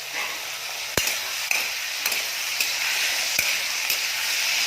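Potatoes fry with pointed gourd in a pan, a loud, even sizzle broken by a few sharp clinks of a utensil against the pan.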